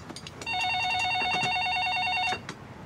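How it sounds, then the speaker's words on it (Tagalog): A telephone rings in a home, a single warbling electronic trill held for about two seconds, fairly close, with faint background household sounds around it. "Junjun, ang telepono."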